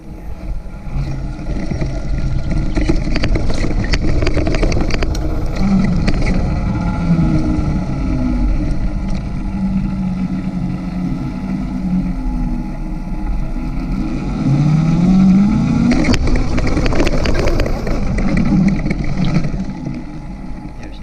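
Steady loud engine-like drone and wind buffeting from an Apollo RFN Rally Pro bike riding over rough terrain and berms, continuous throughout with rising whine passes, no talking.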